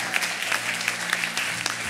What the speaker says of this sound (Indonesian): Yang setuju tepuk tangan buat Allah kita